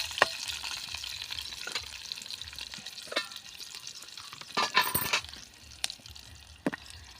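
Onion sautéing in a pan for a bitter gourd (karela) dish, with a steady sizzle broken by sharp scraping stir strokes and clinks of a spatula, close and fairly loud, no voices.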